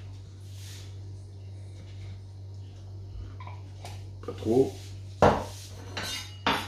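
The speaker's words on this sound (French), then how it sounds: "je vais prendre une casserole, je vais mettre un peu d'huile" A saucepan is handled on a stovetop while cooking oil goes in, giving a few sharp metallic clanks and scrapes toward the end over a steady low kitchen hum, with brief quiet talk.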